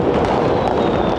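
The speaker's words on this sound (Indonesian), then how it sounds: "suara kembang api di mana-mana" Dense, continuous crackling and popping of New Year's fireworks going off all around in Manado, loud and close, with no pauses across the short stretch.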